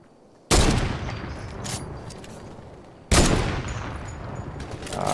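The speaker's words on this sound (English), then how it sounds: "Somebody's shooting him" Gunfire in a video game, two loud abrupt bursts of shooting a few seconds apart, each decaying into a rough sustained rattle, close and dominant with no talk.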